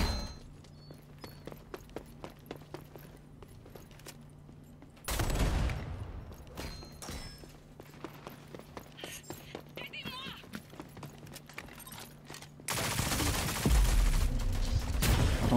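Gunfire crackles through a Rogue Company match, sharp shots in rapid clusters near and far, with heavier bursts of noise breaking in twice.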